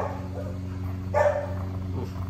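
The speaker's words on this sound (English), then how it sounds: "Puppies everywhere." Rescue puppies bark and yip in a short burst over a steady low hum, with one louder cluster of barks near the middle standing out against the background.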